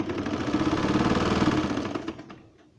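A sewing machine stitches fabric for a baby's summer shirt in a short, close, steady burst of rapid needle clatter that winds down and stops.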